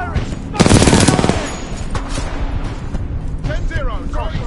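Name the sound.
gunfire in the video game Titanfall 2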